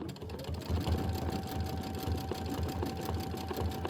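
A sewing machine stitches down fabric on a quilt block, its steady rapid motor hum and needle chatter running continuously at close range with no voices.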